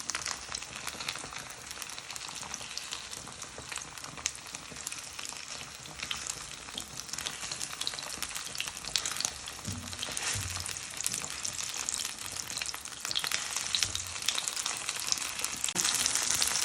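Buttermilk steaks frying in a pan, a steady crackling sizzle that stays close and even throughout and grows slightly louder toward the end.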